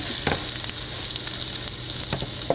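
Sliced onions with turmeric and chili powder sauté in a pan for an onion thoran, giving a steady, close sizzle with a few faint scraping stirs.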